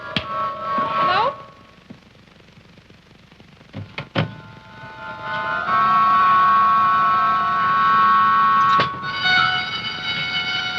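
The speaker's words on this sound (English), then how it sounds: "What's that? It's alarm." An alarm goes off in a suspense television drama, a steady multi-toned ringing that holds for several seconds, breaks off briefly and then resumes loud and continuous, with voices and a few sharp knocks earlier.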